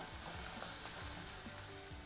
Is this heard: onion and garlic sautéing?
yes